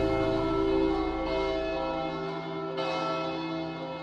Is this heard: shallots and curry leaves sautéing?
no